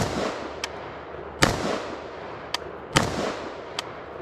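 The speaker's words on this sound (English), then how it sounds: "So we'll just put a few rounds" A PSA AR-15 rifle fires a few rounds outdoors: a handful of sharp, irregularly spaced cracks, each trailing off in a short echoing decay, at moderate volume with no talking.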